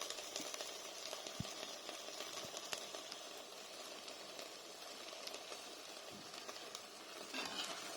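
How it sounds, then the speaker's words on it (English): Kale and stock in a pot come up to a boil, giving a steady, faint bubbling hiss with scattered small pops and the odd clink, close by and with no talking. "it's really starting to boil at the bottom now"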